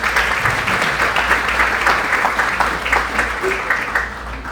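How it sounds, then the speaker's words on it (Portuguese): An audience applauds at a testimonial gathering, with sustained, even clapping over a low steady hum, lasting several seconds without a break. "Vamos aplaudir."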